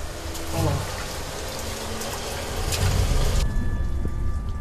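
Water drips and patters like steady rainfall inside a narrow timber-propped underground tunnel of a Sri Lankan gem mine, a dense continuous hiss of drops with a few heavier splashes nearby.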